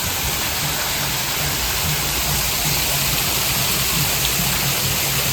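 Garden fountains at a Polynesian tiki restaurant in Fort Lauderdale, among tropical plants and tiki torches, send out a dense, steady wash of splashing water, loud and continuous, with no voices.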